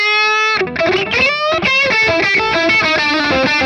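Distorted electric guitar through a tuned-800 style Lens Hot Chili amp capture on a Hotone Ampero pedalboard: a ringing opening chord, then a loud, driving run of palm-muted riffs and chord stabs.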